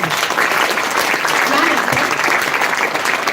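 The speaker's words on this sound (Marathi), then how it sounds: "एकदा पुन्हा एकदा जोरदार टाळ्या व्हायलाच" Loud, sustained applause from a crowd, with a voice briefly audible underneath.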